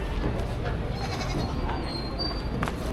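Goats bleat at a busy livestock auction in Padre Garcia, Batangas, short cries rising over a constant noisy crowd murmur and people talking nearby.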